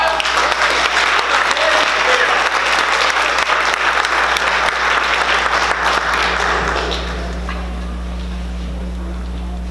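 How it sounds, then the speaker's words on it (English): Audience applause at a Purim spiel performance, loud and dense for several seconds with whoops mixed in, then tapering into quieter crowd noise over a steady low hum. "So, round of applause."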